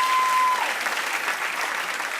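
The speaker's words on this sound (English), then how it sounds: "I feel like they're clapping because it's good" A burst of audience applause, many hands clapping together, strong at first and then easing slightly but continuing throughout.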